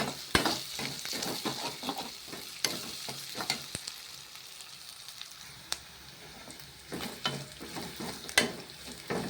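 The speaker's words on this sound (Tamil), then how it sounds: "பூண்டு போட்டோன்னே அடி பிடிக்கும் நல்லா கிளறி விடணும்" Ginger and garlic frying in a pan for a mango and lentil masiyal, a soft sizzle under sharp, intermittent scrapes and clicks as the mixture is stirred, close up and without speech.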